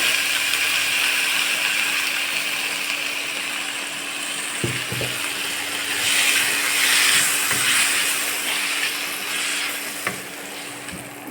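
Drumstick leaves and shallots being sautéed in a pan, giving a steady sizzle and crackle with a few soft scrapes and knocks of a spoon against the pan.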